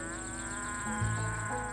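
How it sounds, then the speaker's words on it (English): A cow grazing on a lake island pasture in Sila National Park, Calabria, lets out a single low moo partway through, set against a steady hissing outdoor background. "In this bucolic landscape, cows graze peacefully."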